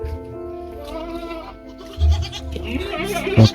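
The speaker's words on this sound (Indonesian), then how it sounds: "Dan ini banyak sekali kambing-kambing ini teman-teman." Goats bleat in a rural inland Javanese village, several short wavering cries close by, with someone talking in Indonesian over them.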